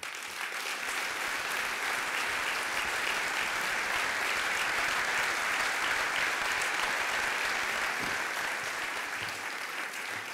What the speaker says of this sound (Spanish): me gustaría que le dedicáramos un aplauso a él y a su familia